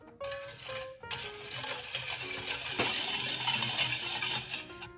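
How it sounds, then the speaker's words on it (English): A whisk clinks and rattles against a bowl while mixing a ketchup sauce for sesame chicken, the quick metallic tapping building in a busy, close run after a brief pause. "I'm gonna whisk this together."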